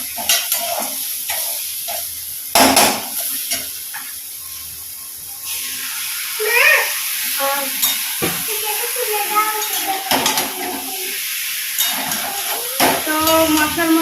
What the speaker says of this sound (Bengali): তো মশলার মধ্যে চিকেনটা দিয়ে দিল, এখন ভালো করে কষিয়ে চিকেনটা তুলে নেব